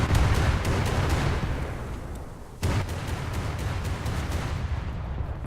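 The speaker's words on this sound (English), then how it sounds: "Our secondary is going to start firing." Destroyer secondary guns fire in War Thunder naval battle, a dense roar of rapid cannon reports and rumbling blasts with a sharp salvo midway, loud and continuous.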